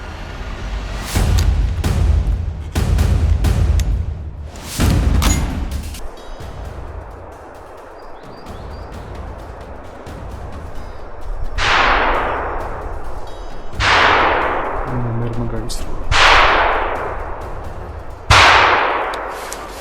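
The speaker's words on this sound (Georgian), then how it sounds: "როგორც გაიგონეთ, არაკის დაწყებამდე მოხდა გასროლა" Gunshots ring out during a fox hunt in the countryside: several loud sharp cracks, then four distant shots each trailing into long rolling echoes.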